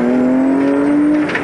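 A rally car launches from a stage start at the Nivala Kapinaralli, its engine climbing steadily in pitch as it accelerates hard, loud and close from inside the car.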